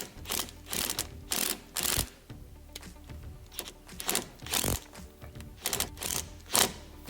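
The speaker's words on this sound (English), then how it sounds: "Now, we're going to use an impact driver." An impact driver hammers at a stuck brake bleeder screw, giving bursts of rapid, loud mechanical rattling that start and stop several times in close succession.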